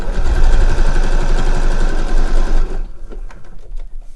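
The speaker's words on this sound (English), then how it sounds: "And sewing the sole to the top of the boot." Sewing machine running fast and steady, stitching the sole of a handmade slipper boot to its upper, loud and close for nearly three seconds before stopping, followed by faint handling clicks.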